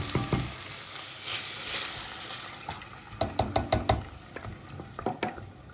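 A pot of food simmers on a home stove, a soft bubbling sizzle under a series of sharp clinks and taps from a utensil against the pot, faint and close with no talking.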